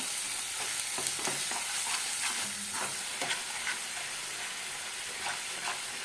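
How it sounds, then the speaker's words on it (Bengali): Spices with salt, sugar, coriander and cumin powder are stir-fried in a pan for a Bengali cabbage dish, making a constant hissing sizzle over repeated scraping strokes of the spatula. "দিয়ে ভালো করে মশলাটা কষাতে থাকবে"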